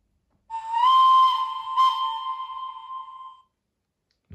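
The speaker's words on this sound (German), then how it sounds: "Dann haben wir noch eine Pfeife." Digital sound decoder in a Märklin Krokodil Ce 6/8 model electric locomotive (3015 converted to mfx, 36159 sound) gives a single loud, sustained whistle lasting about three seconds, swelling briefly midway before trailing off, heard alone.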